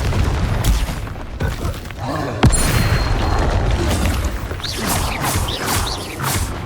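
Spell blasts in Hogwarts Legacy, loud booming impacts and whooshing bursts firing in quick succession over a rumbling game soundscape, with one sharp crack standing out.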